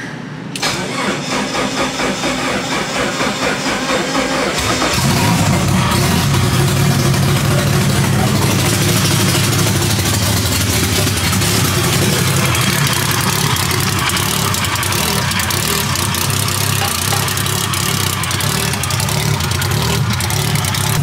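An SRT4-swapped Dodge Caravan minivan cranks for a few seconds, catches and settles into a loud, steady, rough idle that carries on close by; no voices.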